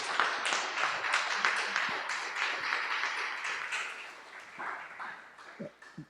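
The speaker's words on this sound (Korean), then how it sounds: "우리 박수로 하나님께 경배 먼저 하겠습니다" A church congregation applauds during a Sunday worship service, with a broad wash of clapping that is fairly loud at first, then thins out and fades with a few scattered final claps.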